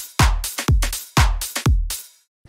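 Deep house drum pattern built from samples in FL Studio: punchy kicks with snappy hits in a steady groove, four strong beats with short decays, loud and alone, stopping abruptly near the end.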